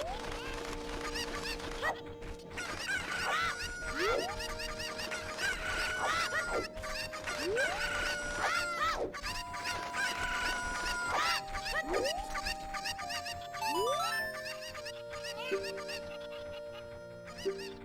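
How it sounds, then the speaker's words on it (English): Cucco chickens cluck in a Zelda game, with repeated short calls recurring roughly every two seconds over a busy bed of game music and sound effects, fairly loud and steady throughout. "That guy is always right next to this cucko when I want to grab it."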